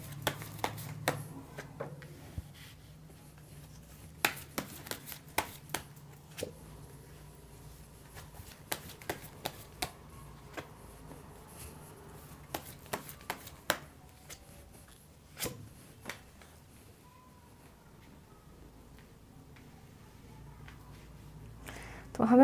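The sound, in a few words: drawing and shuffling tarot cards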